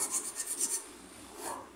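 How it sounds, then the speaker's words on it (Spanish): Sandpaper rubbing against a spot on a Chinese motorcycle's frame being prepared for the negative battery cable, a quick series of about six rasping strokes close up, followed by a pause and one softer stroke. "Lo van a lijar bien"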